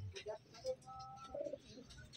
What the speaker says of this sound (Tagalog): Ang galing na ibon.